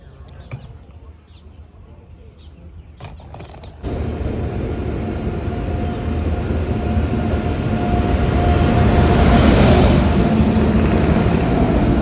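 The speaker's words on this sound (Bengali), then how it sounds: "ট্রেন আসছে।" A train pulls into a station platform. A quiet, murmuring background gives way to a loud, sustained rumble and rolling clatter that swells steadily as the train draws closer.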